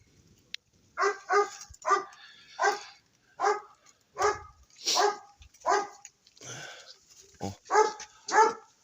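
A dog barks about a dozen times in a steady, evenly spaced rhythm, close and fairly loud, with no one talking, outdoors in a garden where pomegranate bushes are being pruned.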